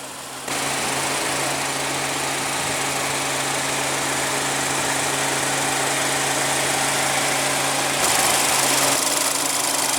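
A 2016 Ford Escape's 1.6-litre EcoBoost turbocharged four-cylinder runs at a steady idle under the hood, a loud, constant drone with a low hum that holds evenly throughout with no talk.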